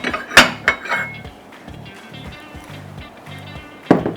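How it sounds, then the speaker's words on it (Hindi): A large mixing bowl is set down and handled on a kitchen counter for a zinger burger, giving a few sharp clattering knocks near the start and one more at the end, with a low rumble between and no talk. "ये एक लार्ज बोल ले लेते हैं"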